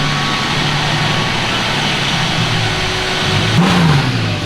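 An engine in a BMW E36 wagon, pulled outside, idles as a steady low drone and then climbs into a short rev near the end, loud and close with no talking.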